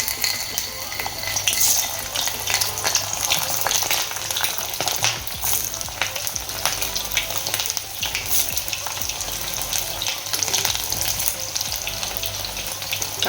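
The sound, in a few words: bitter gourd deep frying in oil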